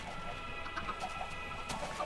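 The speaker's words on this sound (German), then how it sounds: "Die hauen alle aus der Hühnerfarm ab" Chickens cluck in a Minecraft chicken farm: short, soft, scattered clucks repeat over a steady low background hum, fairly faint and fleeting.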